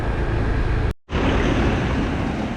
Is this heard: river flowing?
yes